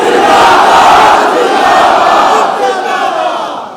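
A large rally crowd chanting a religious slogan in unison, a loud sustained roar of many voices that holds strong and gradually tapers off.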